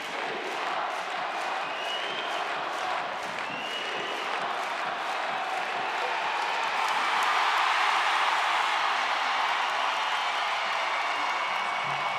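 Arena crowd at an ice hockey Challenge Cup final roars and cheers continuously, with applause and whistles building steadily louder toward the end, a dense sustained wall of noise.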